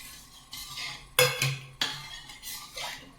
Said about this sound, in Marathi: आता हे उकळी येईपर्यंत हलवत राहायचं